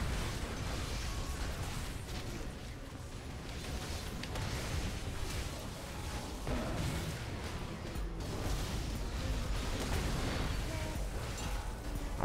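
A blast from an in-game explosion in League of Legends, with a dense burst of crackling, booming noise mixed into continuous game effects at moderate level throughout.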